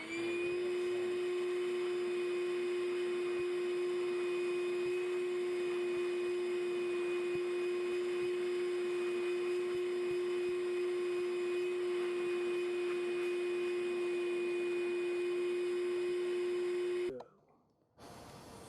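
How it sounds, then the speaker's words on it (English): A vacuum cleaner digs into a Florida harvester ant colony chamber, running as a loud steady whine with a strong constant tone for about seventeen seconds before cutting off abruptly near the end. "and then you can just get the vacuum cleaner."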